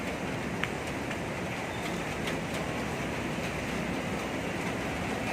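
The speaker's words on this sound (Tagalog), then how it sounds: "Ayan, umuulan." Rain falls steadily over an outdoor parking area, making a dense, even hiss that stays at one level throughout with no voices.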